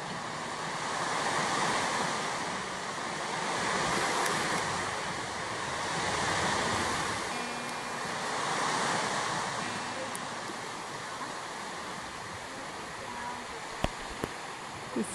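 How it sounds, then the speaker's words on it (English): Water laps steadily at Judes Lagoon in an outback Queensland reserve, a continuous wash of small waves swelling and easing in slow cycles with light wind noise and a couple of brief knocks near the end. "Beautiful sounds of that water."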